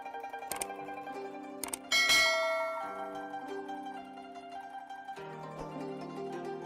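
A notification bell rings once with a bright strike and a lingering metallic ring. It sits over sustained tonal music, with a few short clicks just before it.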